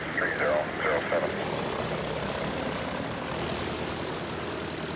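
Single-engine propeller planes, a group of 27 loaded with toys, arrive one by one at an airfield on a winter day. A steady engine drone with a buzzing propeller tone fills the air, moderately loud and continuous, with no talk.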